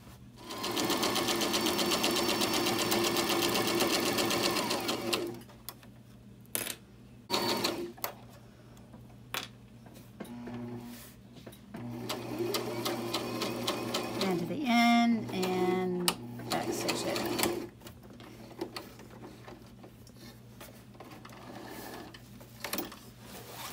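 A sewing machine stitches an envelope-style cushion cover, starting with a long continuous loud run and then going into shorter bursts and stop-start stitching, with fabric handling and quiet talk between runs.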